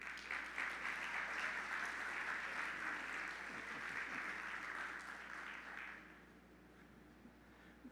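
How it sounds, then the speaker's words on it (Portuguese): An audience applauds a pastor at a church conference, with steady, dense clapping filling the room before tapering off over the last couple of seconds. "vamos aplaudi-lo"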